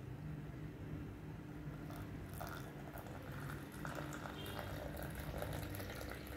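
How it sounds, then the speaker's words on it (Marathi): Hot coffee, just boiled, is poured from a height into a cup to work up froth, a faint continuous liquid splashing and trickling at low volume. "आणि एका साईडनी आपल्याला असं जरा वरनं ओतायचं जेणेकरून हा फेस वरपर्यंत येणार"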